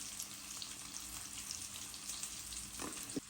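Dried chilies and garlic sizzle and crackle in hot oil for a leafy greens stir-fry, a soft, steady frying hiss with occasional small pops and a faint stir near the end.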